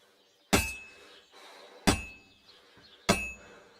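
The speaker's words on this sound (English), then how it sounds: "You've got to hammer the workpiece evenly." A hammer strikes a workpiece on an anvil at a forge in Kingdom Come: Deliverance 2, three sharp ringing metallic blows spaced evenly about a second and a half apart, close and clear with faint ambience between.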